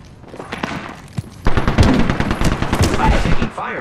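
Gunfire in the video game Apex Legends: a quiet stretch, then a loud close barrage of rapid automatic shots and sharp cracks lasting a couple of seconds, with a few distant pops before it.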